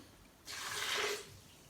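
Water pours into a blender holding chili cashew mayonnaise ingredients, a steady hissing splash lasting under a second, close and moderately loud with quiet room tone before and after.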